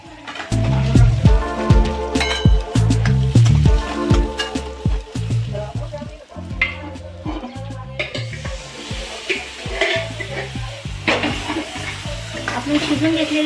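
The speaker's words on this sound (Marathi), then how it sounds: "आता आपण टाकणार आहोत त्याच्यात सुहाना सांबार मसाला." Suhana sambar masala goes into a sizzling pan and is stirred, with loud, close frying hiss, repeated spoon clatter against metal and busy scraping throughout.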